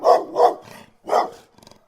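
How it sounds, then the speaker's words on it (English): A dog barks three times in quick succession, close and loud, followed by a softer rough huff. "he can hear the dog now barking"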